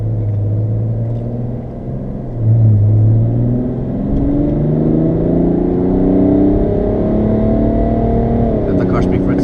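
A BMW 335d diesel car engine revs up loudly and rises in pitch, holding a deep throaty roar for several seconds, close by.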